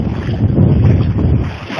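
Sea waves rolling in and crashing against large rocks on the Baltic shore at Władysławowo, a dense, close, rumbling wash with heavy wind buffeting the microphone.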